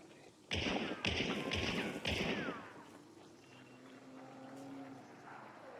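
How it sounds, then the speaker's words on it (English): Silenced gunshots in Hunt: Showdown, most likely from an Officer Carbine: a few muffled, thudding shots close together, then a quieter stretch with a low hum. "There's the silencer again."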